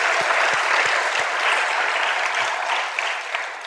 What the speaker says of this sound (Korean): 오늘 이 말씀을 우리에게 이 복된 말씀을 주시는 하나님께 영광의 박수 한번 부탁합니다